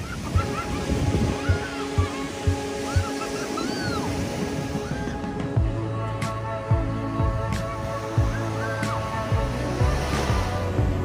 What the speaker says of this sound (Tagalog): See the waves over there?